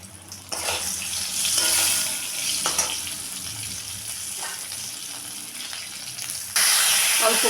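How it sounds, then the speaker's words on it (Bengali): Slit green chillies hit hot oil with fried eggplant, setting off a loud, steady sizzle that jumps sharply louder near the end, with faint scraping of a utensil in the pan and no talking. "দিয়ে দিলাম দুটো চেরা কাঁচা লঙ্কা"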